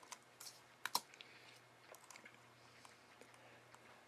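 Keys clatter faintly on a computer keyboard while code is typed in, a few sharper clicks standing out early before the tapping thins into scattered light taps over a steady low hum.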